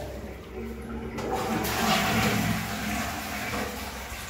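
Water runs in a bathroom of an apartment unit during a water-pressure test, a steady rushing flow that swells and continues evenly.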